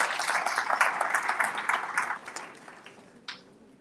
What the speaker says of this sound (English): A big round of applause for our GM.